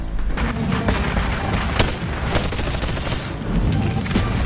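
Rapid gunfire in the VR game Bonelab, dense bursts of sharp shots and booms continuing loudly and close throughout with no talking.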